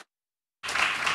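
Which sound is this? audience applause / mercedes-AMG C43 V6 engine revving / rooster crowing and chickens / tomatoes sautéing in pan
audience applause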